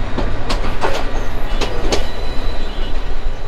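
An Indian local train runs with a loud, steady rumble close by, and a few sharp wheel clicks and squeals mark the first two seconds; no talking.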